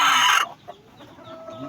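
Pet chickens give a short burst of sound: a loud, harsh squawk for the first half-second, then softer scattered clucks against a quiet background.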